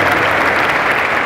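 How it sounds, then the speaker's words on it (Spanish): Brief burst of dense, loud applause for young basketball players at a coaching clinic, continuous clapping from a group with no talking. "Ok, un aplauso a estos chavos."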